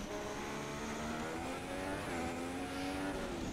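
Formula One race cars in the F1 2016 video game, a steady high-pitched engine whine with rising and falling pitch as cars pass on circuit, loud and continuous throughout.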